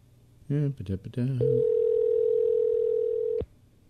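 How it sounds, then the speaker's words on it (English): Dial tone from Skype placing a call to a real phone number, a steady electronic tone holding for about two seconds and then cutting off, heard right after a short burst of talk. "Waiting for Skype to actually dial a real phone number."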